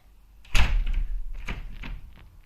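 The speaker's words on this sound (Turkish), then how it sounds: "Kapı açılmıyor arkadaşlar." A locked room door is rattled and pushed, a sharp loud knock followed by a run of rattling thumps and clatters over about two seconds, close by and with no speech.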